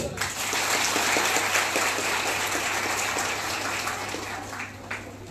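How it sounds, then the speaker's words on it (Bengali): Loud, dense applause from a crowd of children at a government scheme launch event in Assam, sustained for about five seconds and tapering slightly, with a steady low hum underneath. "মামার জন্য জোরে হাততালি"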